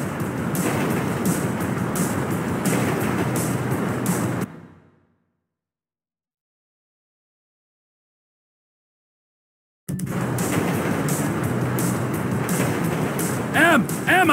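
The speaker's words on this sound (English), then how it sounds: "Train ain't stopping here" A freight train rumbles past in Grand Theft Auto V: loud, dense rolling noise cuts out into several seconds of silence before the heavy clatter returns. Voices talk over parts of it.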